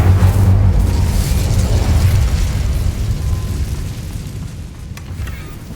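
Someone casts an Incendio fire spell in Hogwarts Legacy, and a loud, steady roar of flame and burst rolls on for several seconds before slowly easing off.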